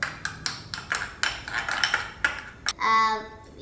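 A metal spoon stirs condensed milk (Milkmaid) mixture in a bowl, clinking against the sides in a quick, irregular series of close, bright taps, ending on one longer ringing clink.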